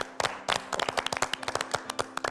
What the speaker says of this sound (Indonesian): Sekali lagi tepuk tangan.